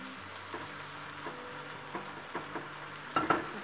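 Shrimp sizzling and frying in a pan for tacos gobernador, a steady soft crackle with occasional stirring scrapes and a brighter burst of spatter near the end, close and fairly quiet.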